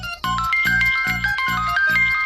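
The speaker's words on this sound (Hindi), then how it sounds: "ये बार बार माँ का फोन आ रहा है" A mobile phone rings in a loud, repeating melodic tone, several evenly spaced chime phrases close by with no talking.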